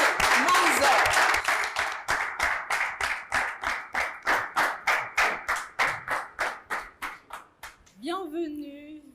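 Loud audience applause greets a Beninese singer on a talk show. Dense clapping settles into steady, rhythmic unison beats that gradually fade, and a voice starts speaking right at the end.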